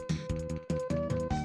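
Chiptune music and sound from the SNES game Lufia & The Fortress of Doom, rhythmic plucked synth notes in short repeated pulses, fairly quiet, with no talking.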